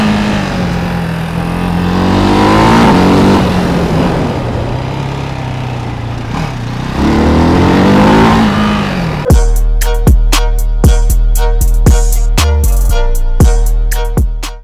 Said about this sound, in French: Il prend les tours, ce mono, il prend les tours.